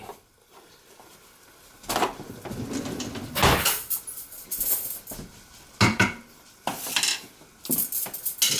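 A metal trivet is handled and set into a cooking pot for a pot roast, giving several clinks and clanks of metal on metal, with a rustle beforehand and sharp knocks spread across the moment, close and fairly loud, with no voices.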